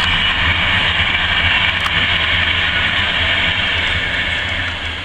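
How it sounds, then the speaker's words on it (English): Train passing close by, a loud steady rumble and hiss of rolling wagons that holds for several seconds before easing slightly at the end. "Trains!"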